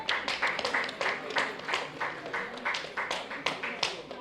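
Audience members clap for the Nevis Cricket Association at a sports gathering, a dense run of overlapping hand claps lasting the whole stretch, with voices mixed in.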